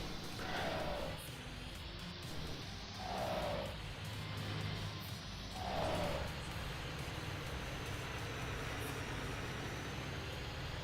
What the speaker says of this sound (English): This turbo chatter is what it's supposed to sound like.